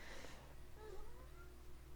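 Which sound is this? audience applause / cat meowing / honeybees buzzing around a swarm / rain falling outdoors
cat meowing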